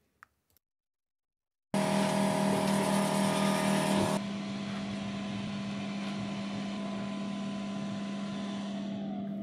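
An air assist pump runs on an Ortur Laser Master 2 Pro S2 LF laser engraver during a cut. It starts abruptly after a couple of faint clicks, hums steadily and loudly, then drops to a slightly quieter constant drone.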